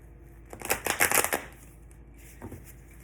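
Satin-finish tarot and oracle cards shuffled by hand, a quick run of soft riffling flutters and taps up close, then a brief pause and a shorter final flick.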